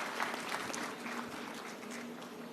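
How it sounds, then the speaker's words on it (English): An audience at a foundation event in Hyderabad gives a soft, scattered round of applause, faint and distant, with a low hum beneath and a little background murmur. "You can give claps to her."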